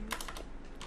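Quick, light keystrokes on a computer keyboard as a shell command is typed, a brief burst of close clicks of fairly even loudness, alone without speech.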